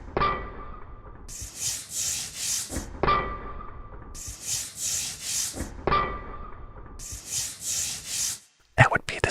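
Rhythmic scrubbing and rubbing strokes in repeated bursts, a harsh hissing scrape recurring every few seconds, close and steady.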